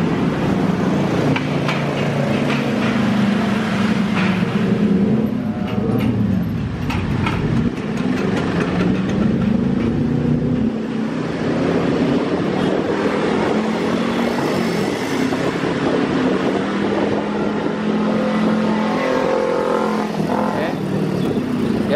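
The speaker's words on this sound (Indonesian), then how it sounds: "sekarang kita masuk dari sisi lain dengan kondisi pelan-pelan melintasi underpass Transito" A car crawls slowly through the Transito underpass in Indonesia, a steady enclosed engine rumble and road roar echoing throughout, with traffic sounds passing and no talk.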